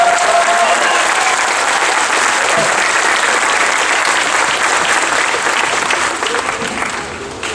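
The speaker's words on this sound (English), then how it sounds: "Let's give these guys a round of applause." Audience at an eighth grade sendoff gives graduating students a round of applause, loud sustained clapping from a large crowd that holds steady before tapering off at the end.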